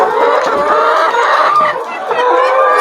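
Laying hens on a poultry farm cluck and chatter constantly as a loud, dense flock close by, with overlapping calls and no pauses.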